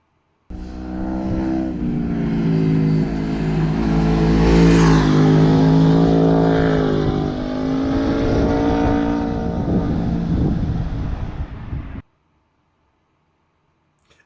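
An MV Agusta F3 800 motorcycle engine revs loud and close, climbing to a sharp peak, falling away, then holding a rough idle before cutting off abruptly.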